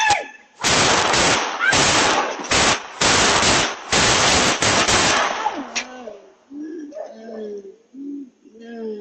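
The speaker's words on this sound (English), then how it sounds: "Gunshots explode through the quiet neighborhood." Rapid gunshots in a quiet residential neighborhood, several loud bursts of overlapping shots over about five seconds, then silence broken by faint bird cooing and a distant voice.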